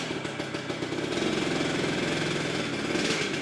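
An old Harley-Davidson motorcycle engine rides in first gear, a loud, steady, near rumble with a fast lumpy beat that holds throughout.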